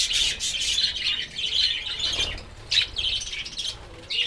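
A hungry pet bird perched on a hand, eating grain and chirping repeatedly in quick, bright, close bursts with a few brief pauses.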